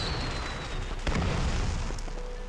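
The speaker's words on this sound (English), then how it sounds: "Wow, a firecracker." A firecracker bursts in the Arknights video game, a single sharp boom with a rumbling tail at moderate level over a steady background bed, no talk.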